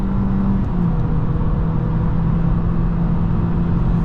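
A 2023 Kia Forte GT-Line speeding up on the road with a steady engine drone. The engine note rises slightly, continuous and fairly loud throughout, with road and cabin rumble underneath.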